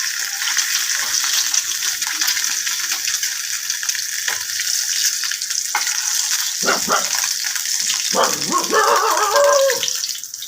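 Eggs sizzling loudly in hot oil, a close, continuous crackling fry with occasional sharper pops and spatters, and a few stirring or scraping sounds toward the end.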